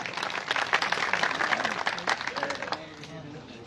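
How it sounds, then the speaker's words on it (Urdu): An audience claps in welcome as teacher Riaz Sahib from Dhanot is invited to speak, a dense burst of applause under a voice that fades out after almost three seconds. "تالیوں سے استقبال کیجیے گا"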